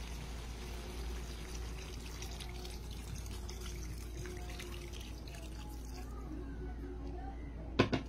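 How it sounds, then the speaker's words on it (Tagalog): Thin second-press coconut milk poured into a cooking pot for Bicol Express, a soft steady liquid pour with faint trickling, heard close and alone, ending in a couple of brief clinks. "Pagkahalo, maglalagay tayo ng ikalawang gata. O ito yung labnaw."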